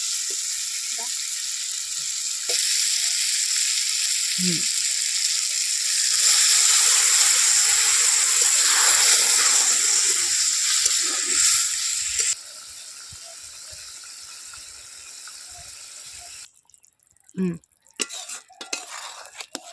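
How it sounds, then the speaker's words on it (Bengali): Prawns fry in spice masala as a spoon stirs and scrapes the pan, giving a close, steady sizzle with intermittent utensil clatter that quiets toward the end, where a few knocks break through. "মাছটা দিয়ে ভালো করে নাড়াচাড়া দিয়ে এবার দিয়ে দেবো সামান্য একটু জল"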